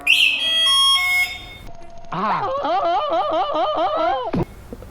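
A Komaki electric cruiser motorcycle gives a series of electronic startup beeps and warbling chirped tones, clear and close, running for several seconds before cutting off abruptly.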